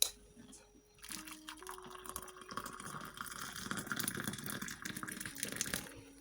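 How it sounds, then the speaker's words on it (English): Freshly boiled water pours steadily for several seconds in a continuous gushing, splashing stream, faint and close, with no talking. "Now the water has boiled, so let's go ahead and pour it here."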